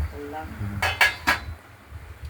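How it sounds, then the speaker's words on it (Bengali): A lid lifted off a kadai of simmering ridge gourd gives three quick metallic clinks close by, then a quiet kitchen hum. "ঢাকনাটা খুলে দেখে নিচ্ছি"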